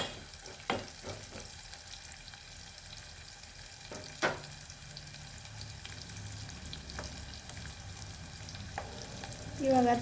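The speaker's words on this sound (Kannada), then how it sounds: "ಅದಕ್ಕೆ ಇವಾಗ ಈರುಳ್ಳಿನ ಹಾಕಿ ಬಾಡಿಸ್ಕೋಬೇಕು" Onions frying in hot oil for tamarind pulao, a faint steady sizzle with a few scattered clicks and one louder clatter near the end, no voices.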